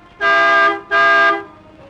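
A car horn honks twice in quick succession, each a steady, loud, tonal blast of about half a second, with nothing else in the background.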